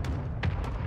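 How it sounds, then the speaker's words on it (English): A friendly mortar strike lands in a Call of Duty match: three quick, sharp blasts over a steady low rumble of battle noise, all within about a second. "Friendly mortar strike on the way."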